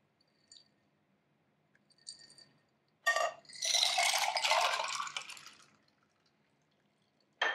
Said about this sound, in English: you could just pour it right over some ice right there